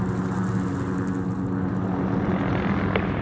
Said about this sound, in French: Tarkov déploie des hélicoptères.